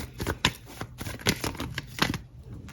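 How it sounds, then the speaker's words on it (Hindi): Tarot cards being shuffled and drawn by hand, a run of quick papery riffles and slaps in uneven bursts, close and fairly quiet with no talk. "2-4 कार्ड मैं और निकालती हूँ"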